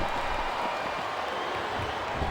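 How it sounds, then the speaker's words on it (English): Wrestling crowd in the WWE SmackDown vs. Raw 2007 video game during an Elimination Chamber match, heard as a steady, dense roar of cheering and applause with no breaks. "I think this crowd's giving these superstars a piece of their minds, King."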